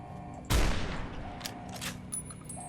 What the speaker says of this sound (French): Oui, bah, c'est fusil antimatériel, en fait.